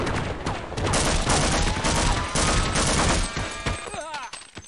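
A Barney character in a Half-Life mod video game fires a gun in loud, rapid bursts of gunshots that run for several seconds, then trail off near the end.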